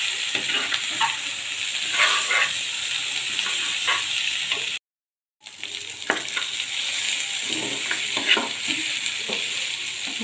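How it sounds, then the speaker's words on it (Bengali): Prawns fry in a spice masala, sizzling steadily up close while a utensil stirs and scrapes through the pan, with a short silent break midway. "মশলা আর মাছটা একসাথে ভাজা হয়ে গেছে।"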